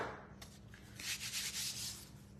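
Sandpaper rubbing across a painted wooden bird house with a spindle base, a close, steady rasping that swells into a run of rhythmic back-and-forth strokes, with no talk.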